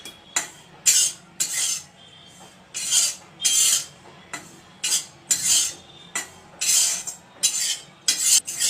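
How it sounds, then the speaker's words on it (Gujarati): A spoon scrapes and stirs dry grated coconut roasting in a pan over low heat, making repeated rasping strokes in an uneven rhythm, close and fairly loud, with no talk. "પહેલાં આપણે કોરું કોપરું શેકી લઈશું"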